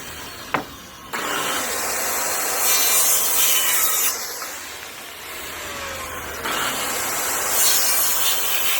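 A power saw cuts through lumber for shelving, giving a loud, close rasping whine after a sharp knock at the start, rising and falling as the blade works through several passes.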